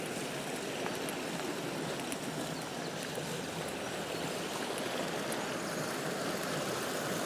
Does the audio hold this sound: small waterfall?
yes